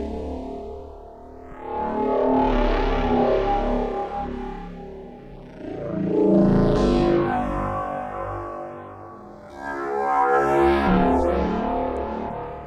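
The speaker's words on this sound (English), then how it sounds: "Also modulating my frequency modulation here, which the Belgrade is nice enough to have attenuators on it." Modular synthesizer with frequency modulation routed through a Belgrade module, producing warbling, sweeping tones with rich shifting harmonics and pitch bends, rising and falling in three loud swells, no talking.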